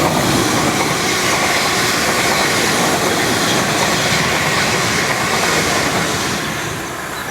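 A South Western Railway Class 450 electric train arriving, a loud continuous rumble of wheels on rails with faint clickety-clack that eases slightly at the end.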